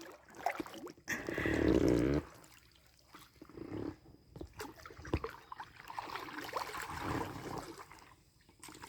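Paddles work the water beside an inflatable fishing boat during a paddling lesson, with a loud splashing stroke near the start and then softer dips and trickles. Quiet voices are heard between the strokes.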